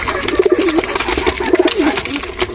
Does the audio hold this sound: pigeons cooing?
yes